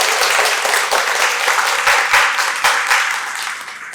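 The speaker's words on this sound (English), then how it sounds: "we can give a mini round of applause for him" Loud, close applause from the audience at a collaborative care panel discussion, a dense, continuous patter of many hands that swells slightly and then tapers toward the end.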